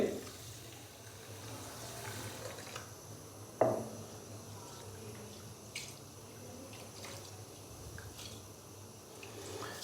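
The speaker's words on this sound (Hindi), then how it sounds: "चावलों के अंदर पानी डालेंगे" Water poured from a tap onto rice in a pot while preparing kheer, with faint trickling, splashing and drips, quiet and close with an occasional clink.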